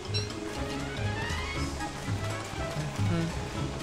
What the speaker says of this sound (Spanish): la lluvia está persistiendo demasiado para mi gusto